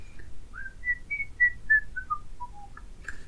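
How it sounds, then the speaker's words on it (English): Sulu whistles tunelessly on the bridge in the Star Trek episode "Court Martial", a thin solo line of short clear notes sliding gradually downward in pitch, close and alone. "Sulu, stop your friggin' whistling."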